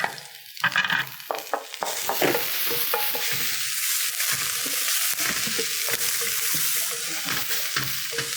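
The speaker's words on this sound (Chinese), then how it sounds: "我们把刚刚的姜把它拿下来，做一个爆香的动作" Ginger stir-fried in leftover fish-frying oil in a wok for a sweet and sour shrimp dish, with a steady loud sizzle and scraping stirs throughout.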